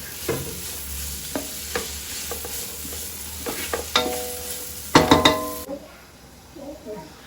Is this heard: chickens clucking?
no